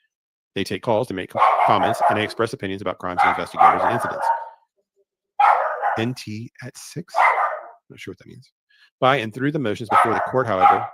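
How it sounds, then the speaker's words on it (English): A dog barks in the background while someone talks steadily in the foreground. Several short barks and yips sit partly masked under his voice. "oh, people's dogs bark"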